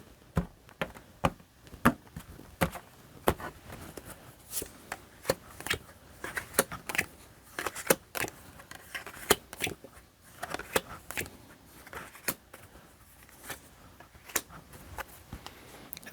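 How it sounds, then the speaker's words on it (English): Tarot cards being cut and shuffled by hand, a steady run of crisp, close slaps and riffles with short pauses between, no talk. "let's cut the cards and see what's in them for the upcoming week"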